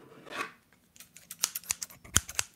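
A few quiet snips from a pair of cheap scissors used as an ASMR trigger, with sharp, close blade clicks coming in an uneven rhythm and no talking.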